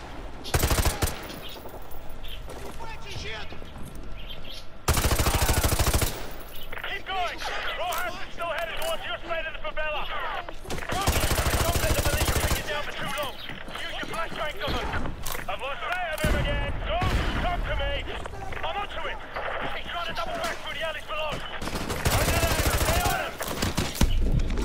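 Gunfire in the video game Call of Duty Modern Warfare Remastered, on a campaign mission played at veteran difficulty: loud, repeated bursts of automatic fire coming in several separate volleys, with someone talking between and over the shots.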